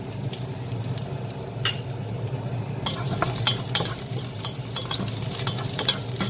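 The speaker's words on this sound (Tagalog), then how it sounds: "Init na siya, ilagay ang garlic." Garlic sautéing in hot oil in a pan, a steady crackling sizzle with occasional spatula scrapes and clinks against the metal pan, growing busier partway through, no one talking.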